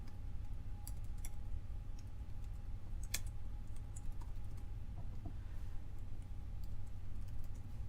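Fingers type on a computer keyboard, entering a name while setting up an Ubuntu virtual machine in VirtualBox; sparse, crisp key clicks sit over a steady low room hum.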